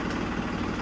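A tractor engine idles with a steady, even low rumble throughout, alone and unbroken for a brief moment.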